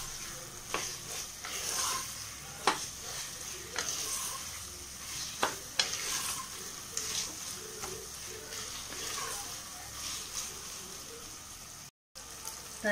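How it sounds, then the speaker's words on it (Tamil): Tomatoes sautéing in oil for chicken biryani, a steady close sizzle broken by repeated sharp spoon scrapes and taps against the pan as they are stirred. "தக்காளிலாம் நல்லா பச்சை வடைலாம் போகிற அளவுக்கு நல்லா வதக்கி விட்டுக்கோங்க"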